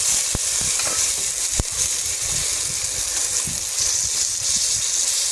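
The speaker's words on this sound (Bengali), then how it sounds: "এগুলো আমি লাল লাল করে ভেজে নেব" Slices of ash gourd crackle in hot oil in a pan, a steady dense sizzle close by with a few sharp pops and spits scattered through; no one speaks.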